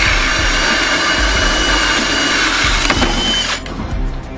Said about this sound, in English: You can put the drill on as fast as you want to go